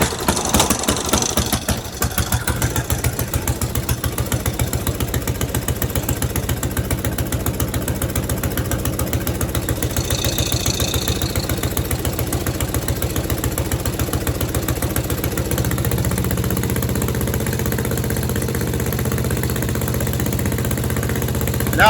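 A snowblower engine left unused all summer idles after being started, running loud and close with a fast, steady chugging rhythm that roughens briefly early on and then settles into an even drone.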